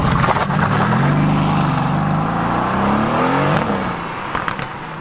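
A Mercedes-Benz AMG GTS Edition 1 supercar engine roars loud and close, rising and falling as it revs and accelerates, then fades slightly toward the end with a few sharp pops.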